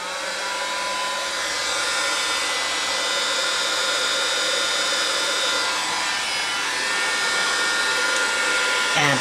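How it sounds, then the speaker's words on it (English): A heat gun blows hot air steadily through the whole stretch, a constant close-up rushing hiss with no pauses and no voices. "And then I take the heat gun."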